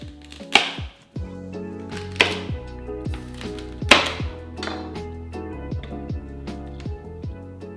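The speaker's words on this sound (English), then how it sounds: "we are going to start to dice up the celery, or just kind of in chunks" A knife dices celery into chunks on a cutting board, with a series of sharp, irregular chops and knocks at close range and no talking.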